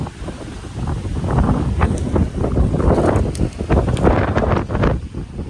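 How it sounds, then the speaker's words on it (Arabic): Strong wind buffeting the microphone in loud, rumbling gusts that rise and fall throughout, outdoors at a car scrapyard. "اليوم هوا عندنا قوي"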